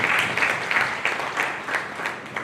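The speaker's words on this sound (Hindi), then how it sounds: "जोरदार ताली ये टीम की।" An audience at an organisation's executive meeting breaks into steady applause for a team, a dense wash of many hands clapping at close range, loud and continuous throughout.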